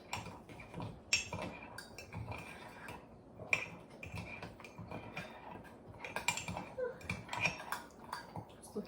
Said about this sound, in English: you're going to take a spoon And you're gonna stir it just until the batter is wettened